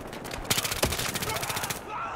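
An FMG9 submachine gun fires in a video game, rapid bursts of close, sharp shots in quick succession over about two seconds.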